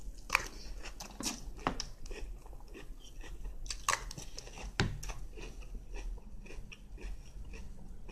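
Super Mario cereal with power-up marshmallows is crunched and chewed close up, with sharp bites scattered among softer, irregular chewing and faint breathing, and no talking.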